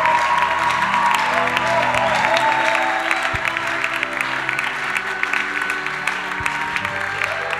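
A church congregation claps and cheers in steady, enthusiastic applause, a full roomful of hands sustained throughout with some voices mixed in.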